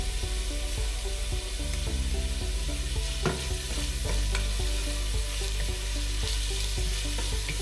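A constant crackling sizzle of onion frying in hot oil, with occasional scrapes and taps of a utensil stirring in the pan.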